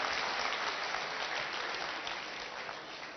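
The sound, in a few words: audience applause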